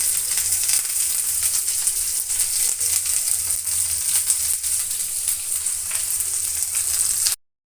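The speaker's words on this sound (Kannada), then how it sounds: "ನೋಡಿ ಇಷ್ಟನ್ನು ಚೆನ್ನಾಗಿ ಫ್ರೈ ಮಾಡ್ಕೊತಾ ಇದ್ದೀನಿ" Crushed garlic, curry leaves and onion fry for sambar with a steady, loud, close sizzle and hiss that runs unbroken and then cuts off abruptly.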